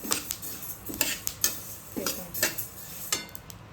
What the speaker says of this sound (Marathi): असा आवाज आला की समजायचं आपलं जवस भाजतंय छान।